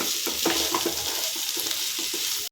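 Ingredients for a healthy breakfast are stirred and mixed in a frying pan with a steady hiss of frying, and soft scrapes and clacks of a spoon come at irregular intervals.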